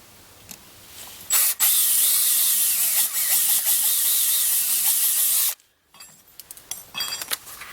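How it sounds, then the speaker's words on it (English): A larger bit in a power drill cuts through a silver spoon for a ring, running as a loud, steady whine for about four seconds before stopping, followed by quieter handling clatter. "I'm going to move up progressively for the larger drill bits."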